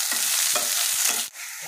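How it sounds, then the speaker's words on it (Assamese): Onion, green chili, ginger and garlic fry in hot oil in a wok, a loud steady sizzle broken by scraping stirs and a brief pause near the end. "এইখিনি ভালকৈ লৰাই লওঁ।"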